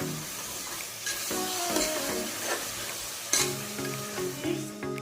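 A chili and yogurt masala for prawn pulao fries in a pan while being stirred. Sizzling and scraping run continuously, close and even, and a louder clatter comes about two thirds of the way through.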